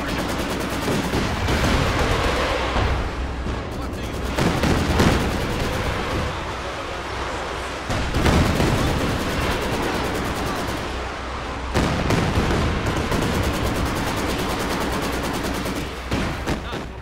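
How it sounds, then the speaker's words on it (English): A rocket barrage and heavy gunfire in Company of Heroes 2, with loud continuous bursts of rapid shots, machine-gun rattle and booming impacts filling the whole stretch, with shouted voices mixed in. "Catch your rocket barrage!"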